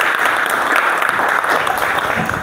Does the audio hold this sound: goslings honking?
no